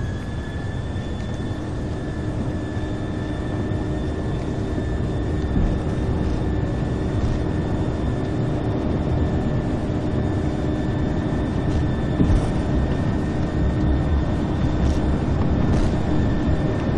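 An Airbus A320's jet engines in Flight Simulator X roar continuously at takeoff thrust, a loud steady rumble with a sustained high whine across the whole stretch, with no voices.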